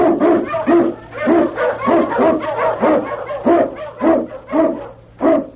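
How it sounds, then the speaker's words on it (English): An Eskimo lead dog barks in a radio drama set in the snowy Yukon, a rapid string of about a dozen loud, close barks in an even rhythm, each with a yelping edge. "King, the swiftest, strongest of Eskimo lead dogs, blazes the trail through storm and snow for Sergeant Preston"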